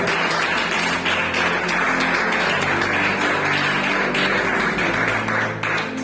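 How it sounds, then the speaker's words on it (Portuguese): A Pentecostal church congregation applauds in a steady, dense wash of clapping that lasts the full six seconds, with no pauses and no voices over it. "Palmas para Jesus, ele merece."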